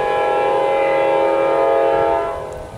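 A CP railroad train sounds a loud, sustained multi-tone horn chord close by, holding steady for about two seconds before it begins to fade, with no voices over it.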